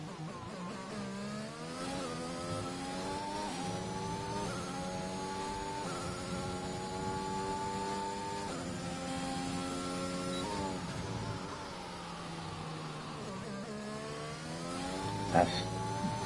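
An F1 car on a hot lap at Bahrain in the game F1 2021, its high-revving engine whining up in pitch through repeated gear changes and dropping on downshifts, loud and continuous with no talk.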